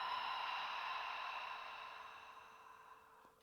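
A slow, soft open-mouthed exhale during a yoga flow, a breathy sigh close to the ear that fades gradually toward the end.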